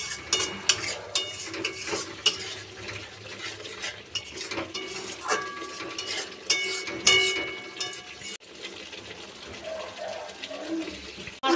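Fish curry masala with fresh coriander leaves being stirred in a pan for a Bengali fish kalia, a steady scrape and clatter of spoon against metal with a light sizzle, sounding close and continuous throughout.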